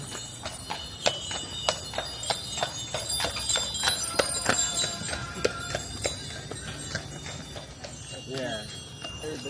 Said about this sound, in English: here's a horsey again, another one